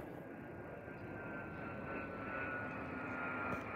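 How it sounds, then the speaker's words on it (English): A small jet roars steadily overhead, a continuous broad engine rumble with a faint high whine, no voices. "It's a little jet flying over the top."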